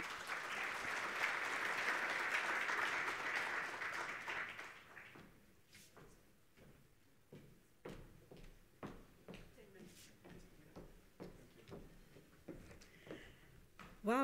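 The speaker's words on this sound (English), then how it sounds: "Let's give her a round of applause." Conference audience applauding at a green hydrogen event in Namibia, a dense burst of clapping lasting about four seconds before fading into scattered footsteps, knocks and small room noises.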